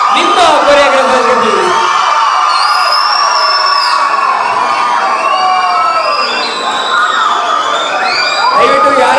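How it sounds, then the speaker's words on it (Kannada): A loud crowd at a Kannada film dance event cheers and shouts for the choreographers, with high-pitched whoops and screams over a continuous roar of voices. "ಬರ್ಲಿ ಜೋರಾದ ಚಪ್ಪಾಳೆ ನಿಮ್ಮ ಕೊರಿಯೋಗ್ರಾಫರ್ಗೆ"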